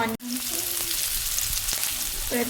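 Onions and chillies fry in oil for Maharashtra-style poha, producing a close, even sizzle throughout with a brief dropout near the start and faint background music.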